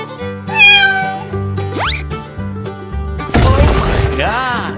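A cat meows in a 3D animal slide game, several clear rising and falling meows over game music, with a crashing burst partway through and a final drawn-out meow.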